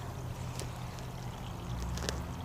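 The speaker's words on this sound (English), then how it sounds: "it says to drain it away from the washer. You can see it draining." Water drains from a portable washing machine of an outdoor base camp system in a continuous, close, even rush and trickle, with no talk.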